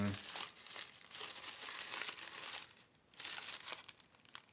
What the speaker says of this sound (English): yeah, it's tissue paper, but it's multiple layers of tissue paper